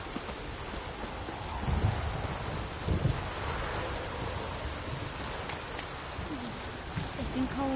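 Steady rain in The Witcher 3: Wild Hunt hisses and patters continuously, with a few low rumbles underneath and faint scattered sounds throughout.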